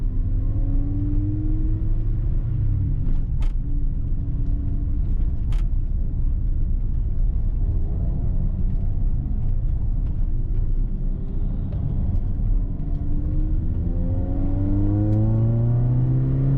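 A Honda Civic race car rolls forward onto the Silverstone circuit, its engine a steady low rumble with gentle revs rising and falling under closed windows, heard continuously from inside the cabin.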